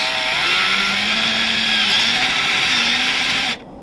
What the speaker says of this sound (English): I'm going to put that drill bit centered in the middle of the lid and start drilling forwards.